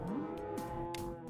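A cow in the CapLab livestock market moos once, a long rising-then-level tone, heard close and clear over quiet game background sound.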